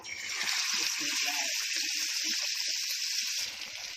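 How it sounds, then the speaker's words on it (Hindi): Green peas vadi sizzling steadily in a medium amount of oil over a medium gas flame, a dense, continuous frying hiss that stays even throughout and eases slightly at the very end. "अब इसको मीडियम गैस पे फ्राई करूंगी।"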